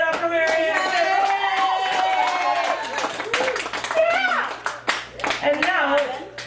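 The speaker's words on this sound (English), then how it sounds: "Give it up for Marianne Schaefer." Audience clapping at a poetry open mic in a cafe gallery, scattered hands heard under and between voices speaking and calling out, with the clapping fading toward the end.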